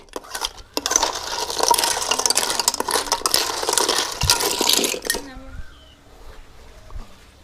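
Snails rattle and scrape in a pan as they are stirred, a busy clattering roast that stops abruptly, leaving faint sizzling and quiet clicks.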